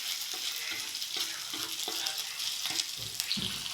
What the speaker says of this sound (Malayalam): ചതച്ച ഇഞ്ചി വെളുത്തുള്ളി ഇട്ട് ചെറുതായിട്ടൊന്ന് ഒരു റെഡ് കളറാവണം